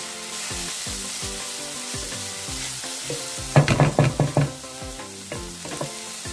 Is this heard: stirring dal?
yes